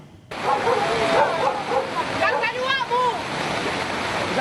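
Strong floodwater rushes through a residential area of Kecamatan Tuka, a dense, steady roaring wash of water with chattering voices and faint yelps mixed in.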